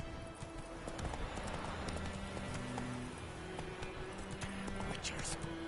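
Roach the horse gallops in the video game The Witcher 3, a steady rapid clatter of hooves over continuous ambient noise, fairly faint, with talk over it.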